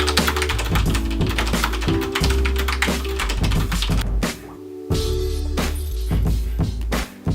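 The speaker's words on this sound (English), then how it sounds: "Doing a typing test." Fast typing on a computer keyboard during a typing test, a dense run of clicking keystrokes that briefly pauses twice and then resumes, close and steady, with no talking.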